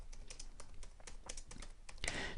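Fingers type on a computer keyboard to enter text into Scrivener on Windows, a quick, close run of light key clicks with a slightly louder clatter at the end.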